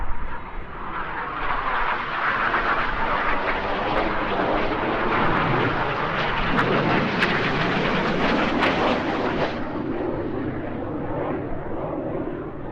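Aerobatic display jets roar past at an airshow, a loud broad rush that builds and holds for several seconds before easing off, close and dominant with no voices.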